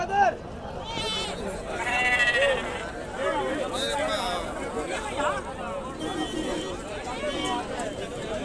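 Goats bleat repeatedly amid a noisy crowd, with people talking, haggling and shouting over the bustle of the busy Angallu sheep and goat market.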